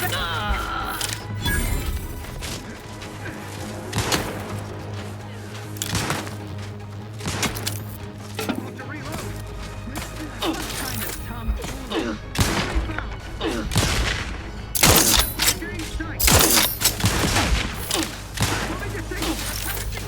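Rapid bursts of gunfire in The Outer Worlds 2, sharp cracks and thumps repeating unevenly over a steady low hum, with brief pauses between volleys and voices talking at times.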